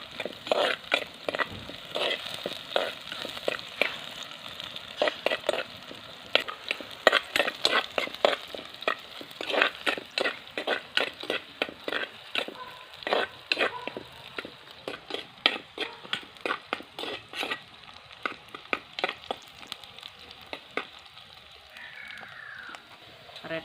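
Onions softening in a pan on the stove, stirred with a spoon: a long run of quick scraping strokes over a faint steady sizzle, close and fairly even, with the stirring thinning out near the end.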